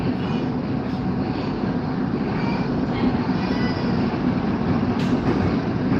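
A Moscow train rumbles loudly and steadily from inside a carriage, with constant wheel and track noise and faint squeals, with no voices heard.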